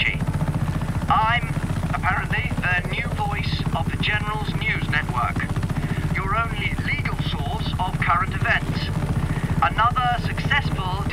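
A helicopter in the video game Just Cause 3 drones steadily at close range throughout, its rotor hum continuous beneath frequent shouted voices and game dialogue.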